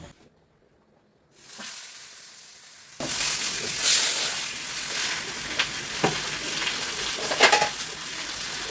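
Fish frying in a pan for a mustard-paste fish curry. After a near-silent start and a soft rustle, a loud, steady close sizzle sets in, with occasional clinks and scrapes of stirring.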